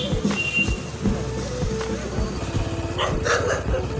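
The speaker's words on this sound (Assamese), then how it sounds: "কুকুৰে ভকে দেখোন" A dog barks several times in short bursts amid a noisy outdoor Durga Puja scene in Rangia, Assam, with other background sounds running underneath.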